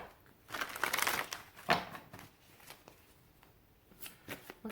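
Tarot cards being shuffled in quick riffling bursts, a soft papery flutter repeating several times at close range, with no speech.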